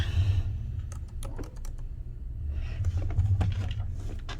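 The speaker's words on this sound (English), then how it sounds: "Okay, put in the password." Keys on a laptop keyboard are tapped in two quick bursts separated by a brief pause, close and fairly soft, over a low background hum.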